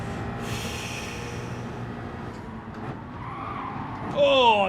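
Car tyres skidding in Gran Turismo 7 during a long race at Bathurst, a steady engine drone and tyre scrub running throughout, with a sharper rising squeal bursting in near the end.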